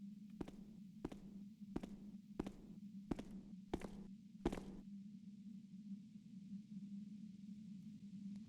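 Footsteps in the stealth game Thief: Deadly Shadows, about seven steady thuds at an even pace over a low constant ambient hum, then only the hum continues.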